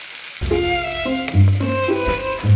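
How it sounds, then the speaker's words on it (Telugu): Tadka sizzling in a home kitchen as mustard seeds and curry leaves hit hot oil, a steady close frying hiss with brief crackles and pops, heard alone. "తడకా చేస్తున్నప్పుడు వేడి వేడి నూనెల ఆవాలు అలా డాన్సులు ఆడుతుంటే,"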